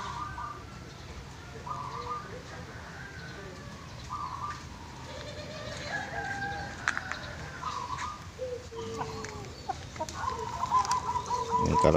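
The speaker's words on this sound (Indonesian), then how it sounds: "Kalau cuman ramainya ayam-ayam tetangga ini tidak mengganggu sih menurut saya" Several neighbourhood chickens cluck and chatter in a busy yard, with a rooster crowing now and then amid a steady outdoor background.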